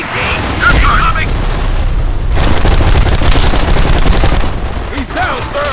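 Loud, continuous gunfire and explosive booms from a military shooter set in a courthouse street battle, with dense bursts filling the whole stretch and soldiers shouting over the combat.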